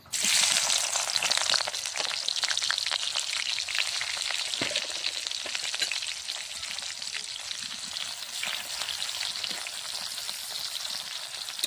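Chopped onions hit hot oil in a kadai while making ghugni, setting off a loud, steady close-up sizzle that stays dense throughout and eases slightly toward the end.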